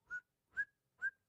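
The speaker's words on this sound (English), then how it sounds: "Usually I'm the one who's whistling. Who's whistling? I'm whistling." A person whistles three short, bright notes at even intervals, fairly quiet and alone, part of a Gilbert and Sullivan tune.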